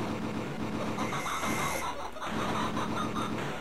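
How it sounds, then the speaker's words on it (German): Amiga arcade shooter Operation Wolf plays a synthesized chicken clucking amid dense gunfire and game sound effects, the clucks continuous and moderately loud throughout. "Und das gackert dann, wenn wir drauf schießen,"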